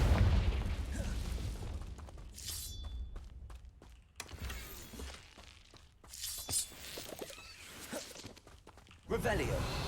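Fiery Confringo blast spells from Hogwarts Legacy erupt in several sharp bursts and thuds with crackling debris, mixed among footsteps and other game effects.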